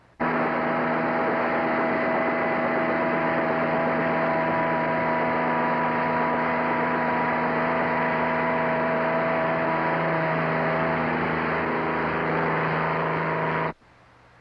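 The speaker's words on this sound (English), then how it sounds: "let's hear a Kaman HTK powered by a conventional aircraft engine" Kaman HTK helicopter powered by a conventional piston aircraft engine, heard as a steady, loud droning hum with strong tonal whine running continuously for about fourteen seconds before cutting off abruptly.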